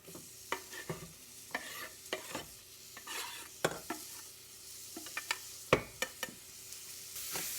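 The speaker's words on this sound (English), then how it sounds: "So at this point, I'm going to add in my onion." Chopped onion sizzling in a pan with browning rice, soft steady frying hiss broken by repeated sharp scraping clicks as it is stirred, close and fairly quiet, no talking.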